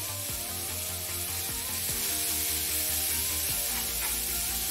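Fish masala coated pieces with onion and curry leaves frying in a pan, a steady loud sizzle with sputtering crackles running throughout, no voices.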